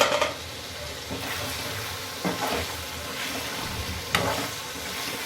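Chicken pieces frying in a pan for a Telangana-style chicken fry, a close, steady sizzle with a few louder bursts of spatter or stirring and no speech.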